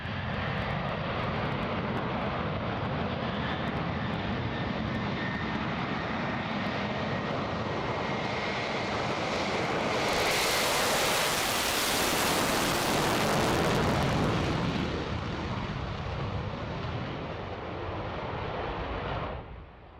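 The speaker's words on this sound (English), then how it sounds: "They were supposed to perform a high-speed taxi run" Aircraft engines roar steadily through a high-speed taxi run of a plane, a loud continuous drone that swells into a broad rushing peak midway before easing and cutting off at the end, with no voices present.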